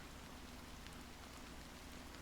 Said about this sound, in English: how long has this rain been going on for?